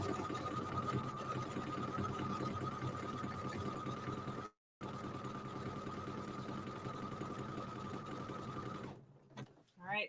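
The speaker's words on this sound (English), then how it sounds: "Hope you guys can hear me over my sewing." Sewing machine stitching through rope, a steady close mechanical whir with rapid regular needle rhythm running almost continuously, broken by one short pause, then stopping near the end as faint sounds follow.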